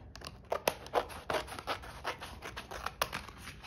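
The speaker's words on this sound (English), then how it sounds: "I like to use scissors, just regular old scissors, precision scissors," Precision scissors snip through paper while shaping handmade flower cash envelopes, a series of crisp irregular cutting strokes with light paper rustling between them, close and quiet with no talk.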